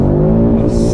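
Audi RS3 engine revs hard under acceleration in manual mode, a loud, rising growl from inside the car that climbs steadily in pitch over one continuous second.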